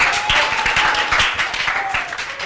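Children at a recitation gathering applaud a classmate, a short burst of steady, brisk clapping from a small group close by.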